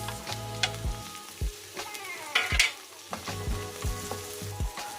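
Tomatoes drop into a pan of sauteing bitter melon and ground pork, setting off a steady loud sizzle broken by repeated scraping stirs and thumps of a utensil against the pan.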